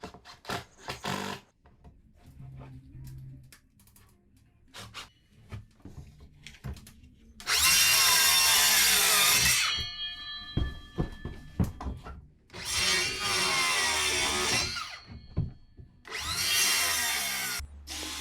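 A power drill bores a hole through a piece of MDF in three loud, close bursts of high whining, separated by quieter handling knocks and clatter.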